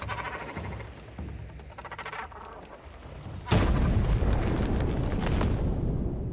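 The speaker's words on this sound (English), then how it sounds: "Then we set off the explosives and watch an amazing explosion." A ship blows up in the video game Assassin's Creed Shadows: after quieter game ambience, a sudden loud blast erupts and gives way to a dense, roaring rumble of burning debris that carries on to the end.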